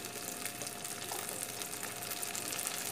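Curry masala fries in a pan as red chili powder is added, giving a soft, steady sizzle at low volume throughout.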